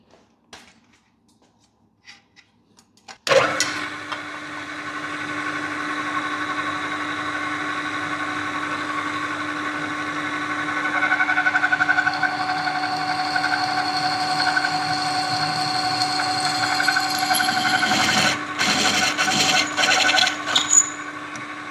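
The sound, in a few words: drilling hole through engine mount plate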